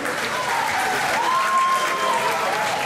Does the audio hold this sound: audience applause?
yes